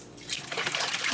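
Water runs steadily from a tap while a wig is being dyed at home, a continuous close rushing trickle that holds without pause throughout.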